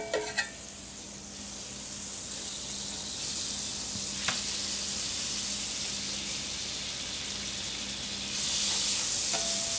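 Butter melting in a preheated skillet for sauteing gives a steady, close hiss and crackle that holds evenly and swells slightly louder near the end, with a brief utensil clink partway through.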